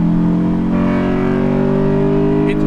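A 1994 Honda Civic del Sol with a VTEC engine holds a high, loud rev, its buzzing tone climbing slightly and staying steady for nearly three seconds.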